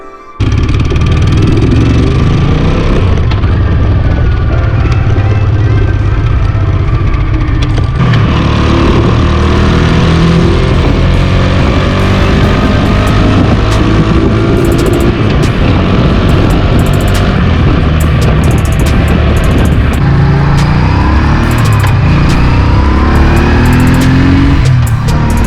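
A Honda Shadow motorcycle engine runs loud and close for the whole stretch, its pitch climbing and falling as it revs up, with no talking over it.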